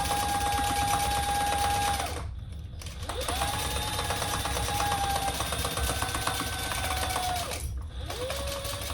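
A sewing machine stitches a crossbody bag panel in long, steady runs, humming with a fast, even needle rhythm, pausing briefly twice before starting again; close and continuous with no talking.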